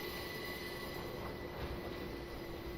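A train running on the Falmouth Branch in a video game rolls past with a constant rumble and thin, steady wheel squeal, unbroken for a few seconds.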